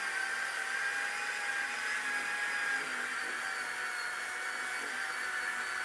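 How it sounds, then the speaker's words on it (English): A DeWalt disc sander runs steadily and close by, a continuous whirring hiss with a faint high whine that holds even from start to finish, with no talking over it. "But that is the DeWalt disc sander"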